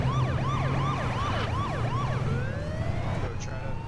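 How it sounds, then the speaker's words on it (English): A police car siren in the H1Z1 video game wails in rapid repeated up-and-down sweeps, then shifts into slower long rising tones, loud against a steady engine hum, with a voice briefly audible underneath. "try to stay away from this guy with the police siren"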